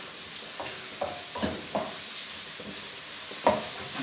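A sauce fries in olive oil in a pan, a steady soft hiss underneath with a few louder scrapes and clinks as it is stirred, close and quiet, with no one speaking.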